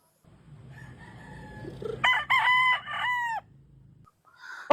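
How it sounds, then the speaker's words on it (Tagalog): A rooster crows loudly and close by in a backyard, one long harmonic call with a few breaks, over low farmyard rumble, then a brief second call begins at the end. "Napakagandang manok."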